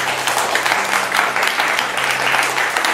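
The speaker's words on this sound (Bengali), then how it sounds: "তাহলে দাস পরিবারের জন্য হয়ে যাক একটা হাততালি।" Studio audience applause on a Bengali family game show greets the Das family, a dense, steady wash of many hands clapping close and loud for the full stretch, with a faint low hum beneath.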